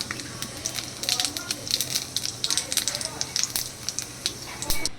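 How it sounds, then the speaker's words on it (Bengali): Cumin seeds and a bay leaf sizzling in hot oil in a pan, a steady crackling hiss with small pops throughout, close and fairly loud. "এবার এর মধ্যে দিয়ে দিচ্ছি সাদা জিরে ফোড়নে, আর দিচ্ছি একটা তেজপাতা।"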